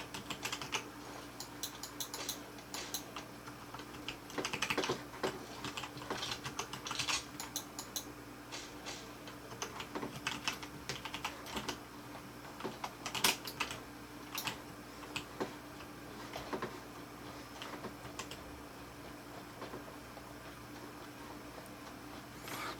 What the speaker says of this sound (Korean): 이렇게 키를 누르다 보면은 제가 지금 왼쪽 위로 누르고 있는데요.